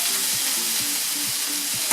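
Food cooking in a pan, a loud continuous hiss of frying close by with faint soft knocks underneath, no voices.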